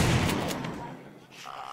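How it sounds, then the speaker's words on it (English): A shotgun fires at zombies in the PC video game 7 Days to Die, Alpha 16.4: a loud close blast at the start that decays over about a second, followed by faint game ambience. "It's too much fun shooting these guys with a shotgun."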